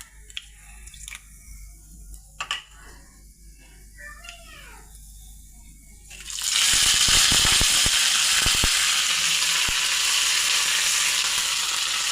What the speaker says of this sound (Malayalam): നെയ്ക്കകത്താണ് ഇത് കടുക് വറക്കുന്നത്